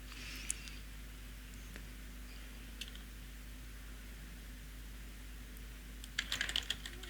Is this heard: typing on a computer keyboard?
yes